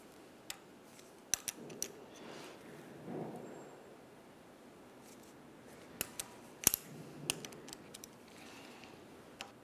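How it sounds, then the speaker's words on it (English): A 17 mm ratcheting wrench tightens a strut nut held by an Allen head, giving quiet, scattered clicks of the ratchet close by in a faint, otherwise calm setting. "To tighten this, we're going to continue using a 6 millimeter Allen head and a 17 millimeter ratcheting wrench."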